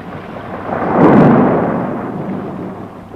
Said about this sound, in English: The storm. She is passing.